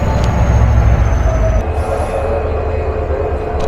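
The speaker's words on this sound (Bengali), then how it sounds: "5 নম্বর প্ল্যাটফর্ম থেকে 3021 মিটার গেজের কিলার বের হয়ে যাচ্ছে চট্টগ্রাম রেলওয়ে স্টেশন থেকে" Meter gauge locomotive 3021 pulls a Turna Express train out of platform 5 at Chittagong railway station, a loud, close, heavy rumble of wheels and cars with thin metallic squeals above it.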